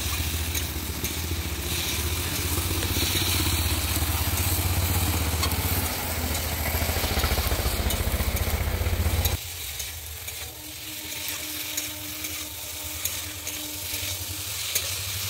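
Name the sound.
fried okra stir-fried with spices in a pan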